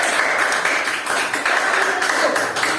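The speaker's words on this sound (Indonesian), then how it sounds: "Tepuk tangan dulu kelompok 2. Nomor 1, tepuk tangan kuat." Schoolchildren in an Indonesian classroom clap together for a group of classmates: dense, continuous applause, loud and close, lasting throughout.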